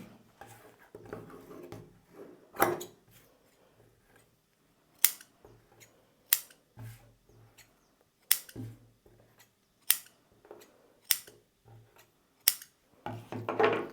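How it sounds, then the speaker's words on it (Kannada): Scissors cut blouse fabric in separate sharp snips spaced about a second or two apart, heard close and fairly loud against a quiet background with faint soft rustling between the cuts. "ಹಾರ್ಮೋಲ್ ಶೇಪು ಮಾರ್ಕ್ ಮಾಡಿಲ್ಲ ನಾನು ಹಾಗೆ ಕಟ್ ಮಾಡ್ತಾಯಿದ್ದೀನಿ"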